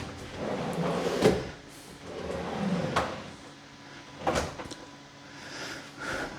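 Heavy-duty full-extension glides on a kitchen drawer roll shut with soft sliding rumbles and a few sharp knocks as the drawer settles home, close and moderately loud amid workshop room noise.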